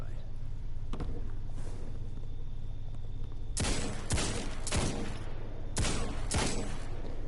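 Hand cannon gunfire in a video game, a few sharp loud shots in two quick pairs over a steady hum of game ambience, with no talk.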